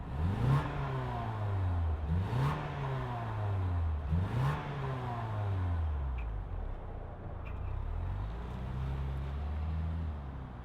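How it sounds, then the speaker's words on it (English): A 2025 Ford Bronco Sport Badlands turbocharged four-cylinder engine idles and is revved three times in quick bursts, then settles into a steady hum with a couple of gentle rises. "let's fire up this 4-cylinder turbocharged engine and see what it sounds like"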